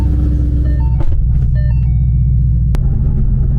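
A steady, loud engine rumble from a nearby stock Ford Mustang GT 5.0 idling, with a few faint tonal beeps and a short click over the drone.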